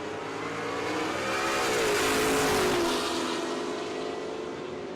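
A Ford F-150 and a Camaro drag racing side by side at Texas Motorplex, a loud, sustained engine roar that swells and rises in pitch as they accelerate down the strip, then eases slightly while still droning.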